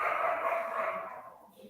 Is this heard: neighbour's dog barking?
yes